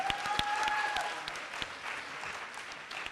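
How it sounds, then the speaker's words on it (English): An audience applauds young scholars at a school anniversary event, with a few crisp, close claps early on, a faint whistle-like tone briefly, and clapping tapering off gradually. "would you give a big applause to our young scholars?"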